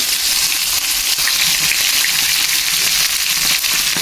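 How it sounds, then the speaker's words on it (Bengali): Pieces of fish for a Bengali taro fish curry fry in hot oil, a loud, dense, unbroken crackling sizzle close up with no voices. "ফার্স্ট আমি একটু ভেজে নেব"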